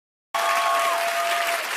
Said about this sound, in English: And they applaud.